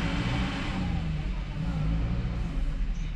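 Car engine revving hard while stuck in snow, a steady loud low rumble with wheel spin, on a snowy road near Auli where a Jimny or Gypsy is being towed out.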